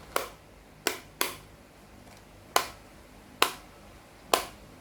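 Six sharp, springy snaps at uneven intervals, crisp and close, each with a brief ringing decay, with no voices.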